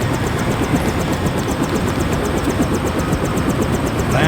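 A Deus Ex video game helicopter drones steadily up close, its engine roar and rotor thrum filling the few seconds alone, with no voices.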